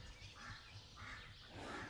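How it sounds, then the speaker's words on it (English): A black-bellied whistling duck flying over, giving soft repeated whistling calls, faint and distant, three short phrases in quick succession. "There's a black-bellied whistling duck flying over."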